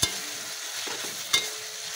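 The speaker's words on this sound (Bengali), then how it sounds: "পেঁয়াজ বাটা, কাঁচা জিরে বাটা। এটা ভালোভাবে কষিয়ে" Onion paste and cumin paste, alongside ginger-garlic paste, sizzle steadily while being sautéed in a pan, with two sharp spoon knocks against the pan over the constant frying hiss.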